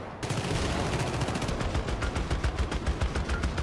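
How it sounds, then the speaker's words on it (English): Rapid bursts of automatic gunfire aimed at the player in the video game Syndicate, loud and sustained, with a dense rattle of shots running continuously throughout. "Who is shooting me?"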